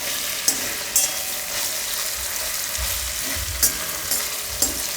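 Okra frying in oil in a pan, a continuous sizzle broken by a few sharp spatula scrapes and taps as it is turned over, close and alone.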